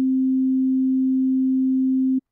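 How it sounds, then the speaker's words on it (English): A synthesizer plays an aliased sine wave without oversampling: a single steady pure tone with faint extra overtones, held evenly for about two seconds before stopping abruptly. "same sine wave, it has these harmonics here, and that's because when you exceed 20 hertz, you get reflections back"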